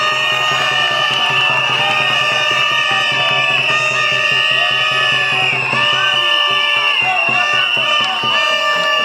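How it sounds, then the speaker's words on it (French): A school crowd at a debate event cheers and shouts, children's high voices and whoops blending into a loud continuous roar with sustained sung or shouted tones, clapping lost in the din. "Sous vos applaudissements, s'il vous plaît."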